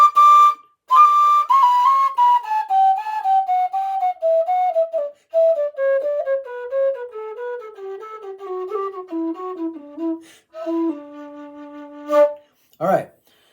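A tin whistle plays a slow descending run of clear, bright notes, pausing between phrases, then holds a steady high tone before a short rapid trill.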